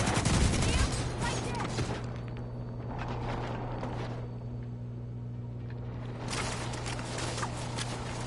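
Rapid gunfire bursts from The Division 2, loud rattling volleys at the start and again near the end, with sparser shots and game ambience between them.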